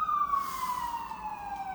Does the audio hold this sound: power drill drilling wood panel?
no